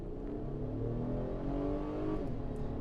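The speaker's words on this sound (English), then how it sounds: "It's a V6 engine, so you should expect that." A 2022 Acura MDX all-wheel-drive SUV's V6 engine revs up steadily under acceleration, a loud continuous roar heard from inside the cabin.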